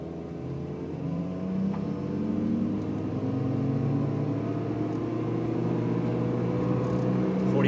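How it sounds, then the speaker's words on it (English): An electric car from a 4 kWh Enginer Gen 1 test pulls at wide open throttle with a steady, rising motor whine and road rumble that holds throughout, with no talking. "Now, wide open throttle pull."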